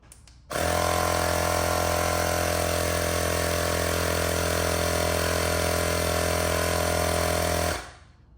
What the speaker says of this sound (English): let's go ahead and see how quickly it pumps up to 45